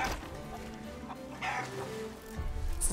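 A chicken in the video game Sea of Thieves clucks softly in short bursts on a small island, faint against background game ambience.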